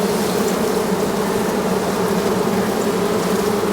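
A dense, loud, continuous drone of honeybees buzzing on a hive frame as the colony prepares to swarm, steady throughout with no voices.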